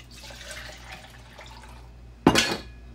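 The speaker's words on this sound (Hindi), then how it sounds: "½ कप पानी और ऐड कर देंगे।" Half a cup of water splashes into kadhi in a pan on a low flame, a single brief pour near the end after a quiet stretch of faint kitchen noise.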